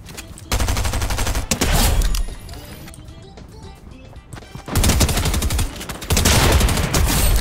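Bursts of rapid gunfire come from a green-rarity gun in Fortnite, loud and close in several separate volleys with short pauses between them.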